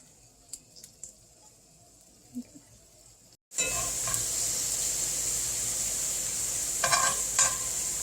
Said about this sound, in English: I'm just flipping these plantains here. We're going to let them cook a little bit on the other side.